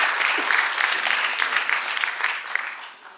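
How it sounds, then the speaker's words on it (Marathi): A crowd at a Pune civic gathering claps in sustained, dense applause that holds steady and then tapers off near the end. "त्यांच्यासाठी जोरदार टाळ्या वाजून त्यांचं स्वागत करावं, अभिनंदन करावं"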